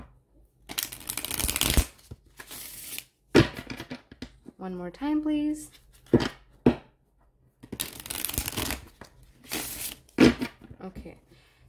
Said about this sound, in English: So I'm going to shuffle the deck